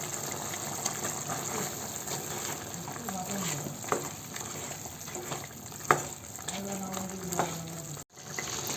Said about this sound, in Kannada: ಶುಂಠಿ ಬೆಳ್ಳುಳ್ಳಿ ಪೇಸ್ಟ್ ಎಲ್ಲ ಹಾಕಿದ ಮೇಲೆ ಸ್ವಲ್ಪ ಚೆನ್ನಾಗಿ ಫ್ರೈ ಮಾಡ್ಕೊಳ್ಳೋಣ